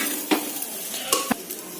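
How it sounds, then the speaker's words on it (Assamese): Bay leaf, cardamom and ginger frying in a pan for pulao, with a soft sizzle and a few brief stirring scrapes and utensil clinks, close and fairly quiet. "তেজপাত ইলাচি আৰু লগতে এই আদাখিনিও ইয়াতে দি সেইখিনি কিছু সময় ভাজিম"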